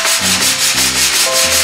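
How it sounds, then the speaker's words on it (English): Steady abrasive sanding on a 1970 Volkswagen Karmann Ghia body panel, feathering the edges; a continuous rough rubbing hiss with slight rhythmic strokes, close and fairly loud, no voices. "you're sanding it out to feather the edges"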